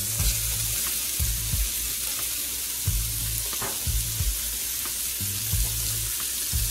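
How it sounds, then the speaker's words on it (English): Onions and peppers frying in hot oil in a skillet, a bright continuous sizzle with repeated knocks and scrapes of stirring at a loose rhythm, close and alone. "while this is still hot, we're going to add our onions and pepper"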